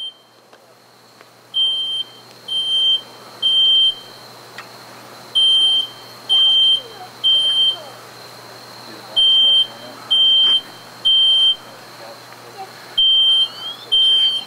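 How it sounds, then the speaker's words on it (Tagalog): A household smoke alarm sounds during a living-room house fire with a burning couch, giving loud, regular electronic beeps in groups of three, each group separated by a short pause, over a low background hum. "Without that smoke alarm is what's buying you time to get out of that structure."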